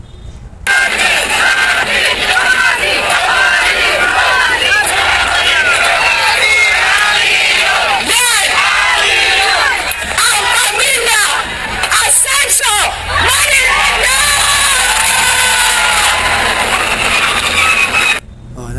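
A large outdoor crowd in Manila cheers and shouts for Yorme, a dense roar of many voices with whoops and calls. The noise rises and falls in swells and keeps going almost without a break, loud and close.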